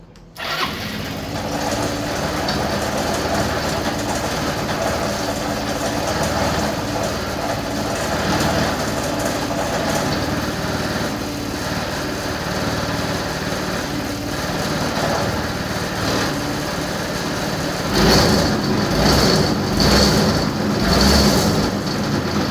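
A Yamaha Vino 125 scooter idles right after a starter clutch repair, its small engine running steadily and close up with a buzzing drone that rises in a few brief revs near the end.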